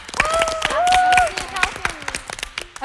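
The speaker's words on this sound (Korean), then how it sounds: "아, 박수" Scattered handclaps from a small group in a studio talk show, sharp and irregular, running under overlapping voices and a steady musical tone, then thinning out toward the end.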